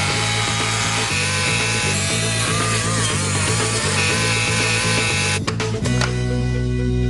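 A loud power saw grinds steadily through a metal safe in a rhythmic pulsing drone, then cuts out near the end, leaving a lower steady hum.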